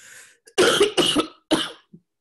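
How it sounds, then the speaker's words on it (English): Three harsh, rasping coughs in quick succession, close and loud, followed by a small throaty sound, with no talking. "the longer I talk, the more I'll start coughing"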